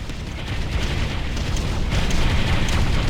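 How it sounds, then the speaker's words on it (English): An artillery barrage in the real-time strategy game Ground Control thunders as a dense, continuous rumble of overlapping deep booms and blasts, heavy and sustained without pause. "Pulverizing target. Beginning barrage."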